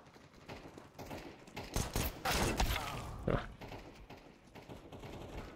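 Pistol shots go off in Counter-Strike 2, a burst of loud clustered cracks in the middle with scattered clicks and lighter shots around them, close and without speech.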